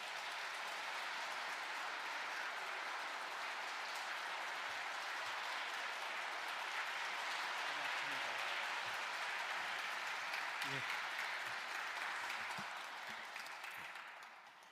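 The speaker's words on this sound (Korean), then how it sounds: "큰 박수로 모시겠습니다" Audience applause welcoming a priest to a Lenten lecture at a church gathering, a steady, even clapping from a crowd that holds for most of the clip before tapering off, fairly distant and soft.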